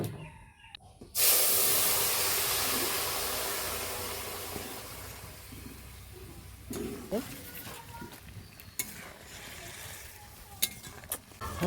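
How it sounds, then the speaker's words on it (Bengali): Whole spices dropped into hot oil for a tempering burst into a loud, close sizzle after a short pause, then fade to a quieter hiss with clinks and stirring knocks; someone speaks briefly near the end. "এই যে এবার সম্বরা দিয়ে নেব"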